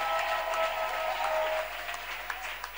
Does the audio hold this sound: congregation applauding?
yes